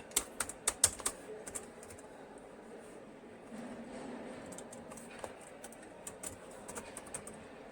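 Python code being typed on a computer keyboard, with a quick burst of crisp key clicks, then lighter scattered taps over a low room hum, close and fairly quiet.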